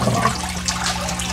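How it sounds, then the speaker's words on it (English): Fish water from an aquaponics system draining out through an overflow pipe into a cinder filter bed, a steady splashing, trickling flow heard close up with no talking. "So when the water gets filled up top to the overflow amount, it's gonna overflow"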